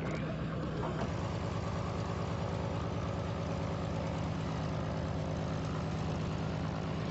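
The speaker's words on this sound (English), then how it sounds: "It's decided that Kirby will try to burn the bad gas through his engine with a test run" Aircraft engine running up on a test to burn off bad fuel, a steady loud droning hum with a throbbing low pulse, constant throughout with no voices.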